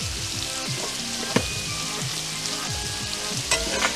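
Haricots verts cook with bacon and pepper in a hot pan as they are stirred, giving a close, steady sizzle with occasional clacks and scrapes of the utensil.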